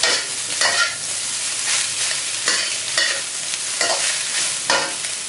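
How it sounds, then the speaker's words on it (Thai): Chinese kale being stir-fried in a pan for salted fish fried rice sizzles steadily, with rhythmic scraping strokes of a spatula every second or so, close and clear with no talking. "ผัดไปแป๊บนึงนะคะใส่คะน้าลงไปเลยค่ะ"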